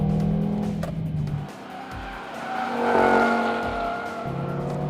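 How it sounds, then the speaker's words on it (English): An Audi TT RS engine roars and revs on a race track, with tires squealing as the pitch dips and climbs again through a corner. "The soundtrack is amazing from the engine"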